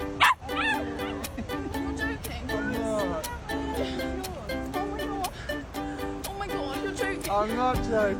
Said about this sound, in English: The puppy she was surprised with was a wire fox terrier.